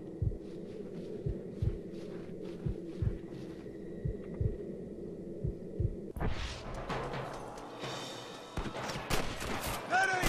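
Gunfire in the Red Dead Redemption video game: a rhythmic series of thumping shots over a low hum, then a burst of louder, denser shooting and commotion near the end.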